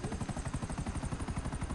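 A helicopter in GTA 5 Online gives a rapid, steady rotor chop that pulses throughout at a moderate level, with no speech over it.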